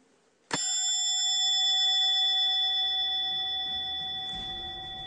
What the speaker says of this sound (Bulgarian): Това е звънецът, с който един крал е давал знак,